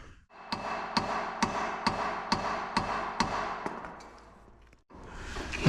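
Hammer striking a socket, about ten sharp metallic blows at a steady rhythm, close and fairly quiet, then a pause and one last knock.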